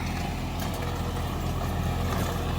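A John Deere tractor, a 5405 or 5210, drives an 8-foot rotavator through a field. Its engine gives a steady, loud, low drone that holds at one level the whole time. No one speaks over it.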